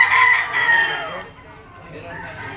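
A Boston sweater rooster with yellow legs crows once at close range, a strained drawn-out call that fades into faint background noise.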